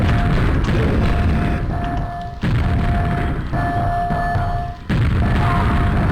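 Grenade blasts in a video game: loud, booming, full-range explosions come in quick succession, each cut off abruptly before the next, with no speech.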